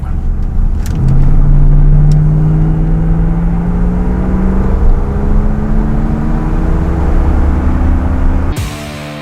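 A white 1982 Corvette C3 engine is opened up, its revs climbing in a rising, sustained drone close by for several seconds before dropping off abruptly, with a brief clatter at the end.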